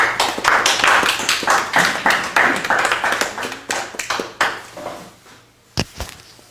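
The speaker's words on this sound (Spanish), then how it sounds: "Un aplauso de nuevo para Pardo." An audience claps after a mathematics lecture on games and Lebesgue measure, with a dense burst of applause that thins out and fades, ending in a few scattered louder claps.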